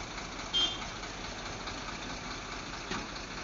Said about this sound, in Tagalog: Napakaingay mga sadik ng makina.